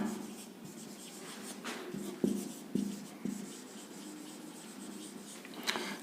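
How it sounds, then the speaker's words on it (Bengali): Chalk or marker writing on a board in an English lesson, with scratchy strokes and a few sharper taps spaced out over a quiet room and no talk. "তাহলে আমরা শেখ মুজিবুর রহমান প্রথমে লিখব শেখ, SHEIKH, শেখ মুজিবুর রহমান"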